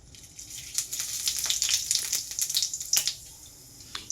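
Whole cumin seeds and dried chillies crackle in hot oil: a steady bright sizzle with frequent irregular pops and spits, close and fairly loud, no voices.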